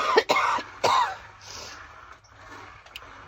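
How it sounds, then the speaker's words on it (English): A few sharp, close coughs, two quick bursts followed by a rougher one, then quiet breathing. "I'm still coughing"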